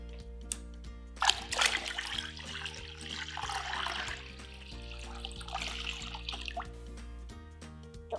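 Water poured onto giant water-bead toys in a container, a short splashing trickle followed by softer dribbling and drips over a steady low hum, close and fairly quiet.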